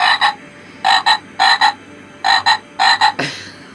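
A heavy motion-sensor frog ornament for outdoor use gives loud, close, paired croaks. Five double croaks come in a steady rhythm, and the last is followed by a brief rattle. No one speaks.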